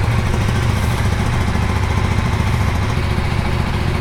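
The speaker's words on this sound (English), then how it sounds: "start up the bike. You guys can hear the exhaust note." A 2025 KTM Duke 390 single-cylinder motorcycle idles steadily at close range, its exhaust putting out an even, rapid low throb with no talk over it.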